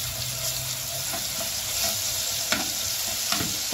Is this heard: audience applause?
no